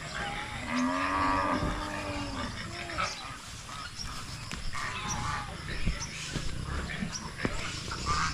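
Cattle on a farm moo in long, drawn-out calls, loudest near the start, while other animals and outdoor noise carry on steadily behind them.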